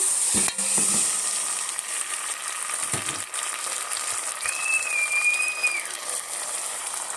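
Tomatoes hiss and sizzle in a hot frying pan, a steady bright crackle running throughout with a few soft clinks and a faint whistling tone partway through.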